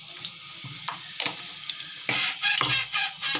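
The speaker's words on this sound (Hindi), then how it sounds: "इसमें हम डालेंगे जीरा" Cumin seeds crackle and sizzle in hot refined oil inside a pressure cooker, a steady close frying hiss with sharp pops and stirring clatter, no voices.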